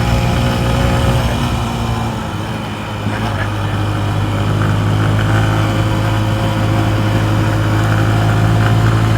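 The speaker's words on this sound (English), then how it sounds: "I like listening to the purr of the engine" A motorcycle engine runs steadily with a loud, low, even rumble that dips slightly once before settling back into a constant purr.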